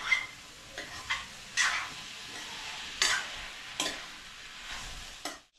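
Carrot halwa is stirred in a pan, with a spoon scraping several times in an uneven rhythm over a faint background sizzle, close and without talk.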